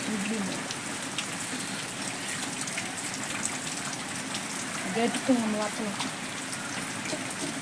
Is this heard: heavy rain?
yes